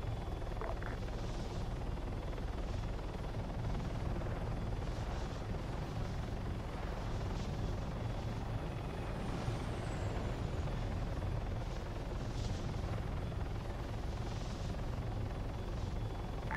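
A helicopter in the video game Arma 3 produces a continuous, loud rotor and engine drone that fills the whole stretch, with faint scattered clicks and no speech over it.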